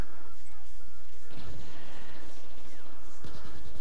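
A grenade explodes in Battlefield 4, a loud booming blast with rumbling debris, followed by a second heavy impact, all dense and close over constant battlefield noise.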